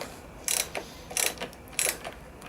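A 22mm socket ratchet loosening the fork caps on a Yamaha MT-07, giving three short, close clicking bursts at roughly even intervals with quiet pauses between them.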